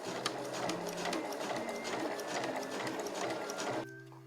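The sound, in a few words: sewing machine stitching a zipper to fabric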